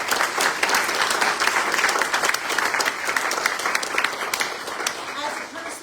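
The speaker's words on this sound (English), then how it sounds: "So let's give them a round of applause." A community audience applauds a group of three political candidates, with steady, dense clapping that stays loud and continuous for the whole stretch, with no voices rising above it.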